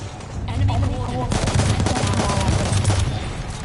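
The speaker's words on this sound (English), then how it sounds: "But it was in fact an artillery call coming in." Incoming artillery fire in a competitive video game match, a dense, loud barrage of booms and rapid crackling blasts rolling on without pause for several seconds, with no voices over it.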